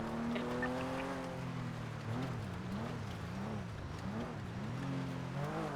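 A very fast car in the GTA NoPixel game drives hard, its engine whining and shifting pitch up and down through revs, loud and continuous with no talking.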